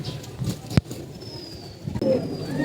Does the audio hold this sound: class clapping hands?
no